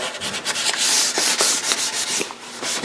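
Sandpaper rubbed by hand over wooden dining table parts, a loud, close, continuous scratchy hiss that swells with each back-and-forth stroke.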